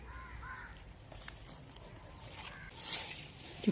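Crows caw in a corn field, a few harsh calls standing out faintly over steady outdoor background noise.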